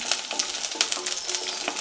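Garlic sautés in a pan with a bright, crackling hiss, broken by frequent quick clicks and scrapes of stirring, close and steady.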